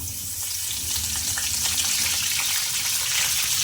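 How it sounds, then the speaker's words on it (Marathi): Curry leaves hitting hot oil already crackling with cumin and mustard seeds, giving a loud, steady, dense sizzle with fine popping throughout. "जिरं मोहरीला तडका आलेला आहे आता आपण टाकूया थोडा कढीपत्ता"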